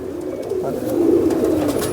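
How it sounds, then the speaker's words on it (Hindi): A female breeding pigeon kept in a cage among newly moved birds gives a low, steady cooing that swells slightly midway, continuous and fairly close, with no voices over it. "बहुत ही बेहतरीन कबूतरी अपने पूरे वजूद में"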